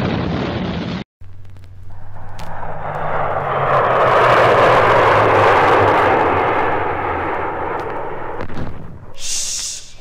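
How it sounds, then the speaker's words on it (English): An airplane passes overhead with a swelling, roaring engine drone that builds to a loud peak and then fades, following a brief cut to silence and ending in a high-pitched burst. "watch a plane, the man. That must be a ganja plane."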